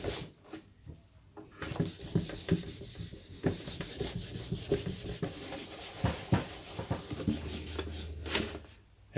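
Grain filler being rubbed by hand onto the wooden case of a NordMende Elektra 58 valve radio during restoration, a steady busy scrubbing and rubbing with frequent short strokes, close and fairly loud throughout, with no talking.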